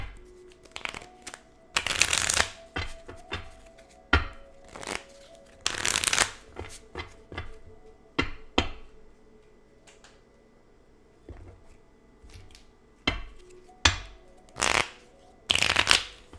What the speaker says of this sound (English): Let's give the rest of the cards a shuffle